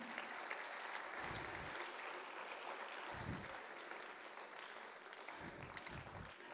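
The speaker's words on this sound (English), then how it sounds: "Could we welcome the Shepherdians onto the stage with a round of applause?" Audience applause welcoming the Shepherdians onto a school reunion stage: steady, broad clapping from a crowd, sustained for several seconds with a few low thumps underneath.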